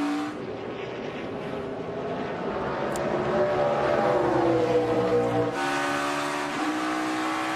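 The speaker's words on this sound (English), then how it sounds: "You hear him hit high gear." An IndyCar-style race car at Mid-Ohio, heard from on board, its engine whining as it climbs through the gears into high gear and builds speed, loud and continuous with a sharp change in pitch near the end.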